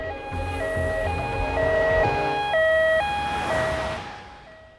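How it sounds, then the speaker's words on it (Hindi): An ambulance siren wails in a loud, steady two-tone pattern, alternating high and low pitches, close by and with no talking. "Ajay, call N ambulance quickly."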